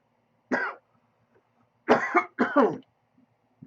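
A person coughs three times, one short cough, a pause, then two heavier coughs close together, near and fairly loud in a quiet room.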